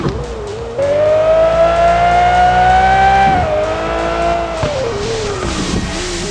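Lamborghini engine in a video game, loud and sustained, the revving pitch climbing and holding, dipping briefly and rising again, with tire squeal layered in and no talking.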